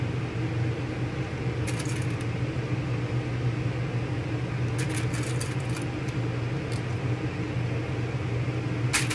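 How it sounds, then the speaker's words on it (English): A sewing machine stitches around the edge of a vinyl phone holder, giving a steady, even motor hum that runs unbroken throughout, with a few faint high ticks and clicks and no talking. "I'm gonna sew 1/4 inch to 1/8 all the way around"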